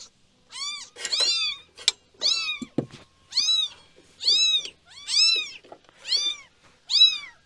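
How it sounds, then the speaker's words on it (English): Several kittens meowing in a steady run of about eight high, clear calls spaced roughly a second apart, close by, with a few faint clanks between calls in a motorcycle workshop. "I gotta take care of these kittens."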